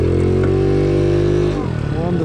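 An Icebear Maddog scooter, a Honda Ruckus clone on its stock variator with an upgraded clutch, runs loud and close with a steady engine drone that drops in pitch near the end, with speech heard over it.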